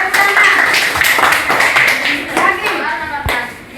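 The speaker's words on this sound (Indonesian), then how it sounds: "Tepuk tangan." Students in a ninth-grade social studies classroom clapping together, a loud, close burst of brisk hand claps with a few sharp individual slaps, and voices mixed in.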